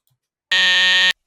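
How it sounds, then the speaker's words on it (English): A game show buzzer blares once, a harsh loud electronic buzz lasting just over half a second after brief silence, cutting off abruptly. "Buzzer."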